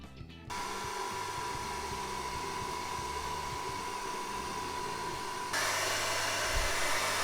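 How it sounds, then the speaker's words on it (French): An improvised vacuum cleaner drones steadily as it sucks up crumbs from the floor, a loud continuous whir that shifts to a brighter, harsher pitch near the end. "on a notre aspirateur improvisé, donc on va aspirer par ça"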